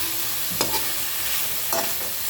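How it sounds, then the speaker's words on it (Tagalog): Margarine sizzles in a pan with sautéed meat while cooking menudo, a soft steady frying hiss broken by two short scraping stirs of a utensil, close and without talk. "saka natin ilalagay yung margarine"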